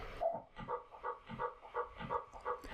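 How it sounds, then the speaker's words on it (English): M Turbo Reverb on its small room preset as a short reverb on a track, a quiet, warm, muffled repeating pulse pattern with a soft roomy tail. "another short reverb that in this case is M Turbo Reverb."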